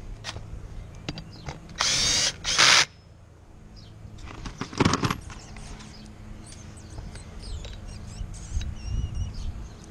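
A power drill drives a screw during work on an engine, with short whirring bursts near the start and middle, and tool clicks and handling noise in between.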